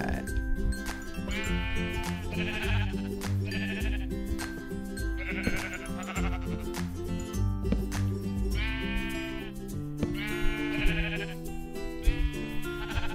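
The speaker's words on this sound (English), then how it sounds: "Oh, shut up, sheep." Sheep bleating in a video game, several bleats repeating through the scene over a busy game soundtrack while a person talks.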